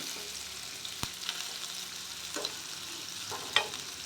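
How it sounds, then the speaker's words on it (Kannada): Onions sizzle softly in a pan as a gravy base with green peas and capsicum gets started, a steady hiss broken by a few sharp clinks and scrapes of a spoon stirring. "ಇದು ಸ್ವಲ್ಪ ಫ್ರೈ ಆಗಿದೆ ಈರುಳ್ಳಿ"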